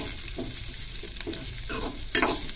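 Chopped onion frying in a pan for a clams masala curry, with a steady close sizzle and several soft stirring scrapes in an uneven rhythm and no voices.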